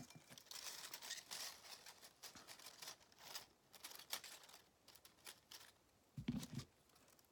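Paper petals of a handmade hydrangea flower rustle and crinkle as they are spread out and pulled into shape. Soft, close, irregular scrunching comes in bursts, with a fuller crackle near the end, and no voice.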